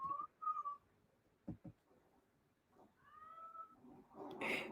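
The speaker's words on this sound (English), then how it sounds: "If you're hearing a cat yelling in the background," A cat yowls with drawn-out, rising cries between short thuds and rustles, faint and somewhat distant, ending in a burst of noise.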